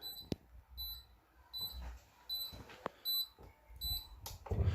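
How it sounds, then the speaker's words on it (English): An electrical installation tester beeps during an EICR inspection, giving repeated short high-pitched beeps in groups spread across the clip, close by, over quiet handling noise and a thud near the end. "It's just the tester going off."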